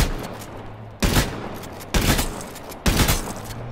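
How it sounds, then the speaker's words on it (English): Three heavy gunshots ring out about a second apart, each a loud, sharp blast with a trailing echo, close by and without talk over them. "How many times I gotta shoot him?"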